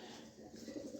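A pair of club pigeons coo softly in a brief, faint, low murmuring call, heard close and alone.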